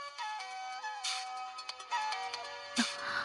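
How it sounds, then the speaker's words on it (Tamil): A phone ringtone rings early in the morning in a household, a bright electronic melody of repeated chiming notes that stops and restarts, loud and close. "இந்த நேரத்துல யார் ஃபோன் பண்றாங்க?"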